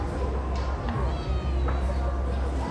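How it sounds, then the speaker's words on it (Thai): A cat meows several times: short, rising and falling cries spaced across a few seconds. They sit over steady background noise while someone talks. "รู้แล้วว่าเป็นแมวไม่ต้องร้องแมวนั่นแหละรู้แล้ว"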